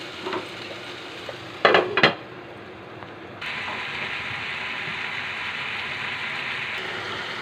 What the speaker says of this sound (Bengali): এভাবে নেড়ে চেড়ে কিছুক্ষণ ঢাকা দিয়ে রাখতে হবে।